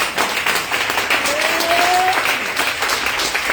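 A church congregation breaks into steady, dense applause that fills the room loudly for several seconds, with a faint voice or sung tone briefly rising through the clapping.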